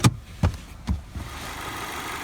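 A 2012 Ford Fusion SE's 2.5-liter four-cylinder engine gives a few low thumps as it catches, then settles into a steady, even idle hum close by.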